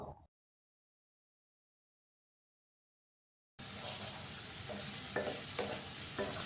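Chicken fries in a pan with ginger garlic paste, salt, turmeric, Kashmiri red chilli powder and chicken masala, a steady close sizzle that starts after a silent gap, with a few scraping stirs.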